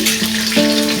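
Green chillies drop into hot oil with a loud, close, continuous sizzle. A brief crackle near the end suggests stirring or a fresh addition.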